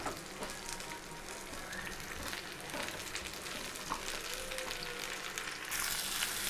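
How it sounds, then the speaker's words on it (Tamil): Pumpkin sautés in a pan with a steady, even sizzle and crackle throughout, with occasional faint stirring scrapes and a slight swell in loudness near the end. "இப்போ நல்லா வதங்கிட்டு இருக்கு"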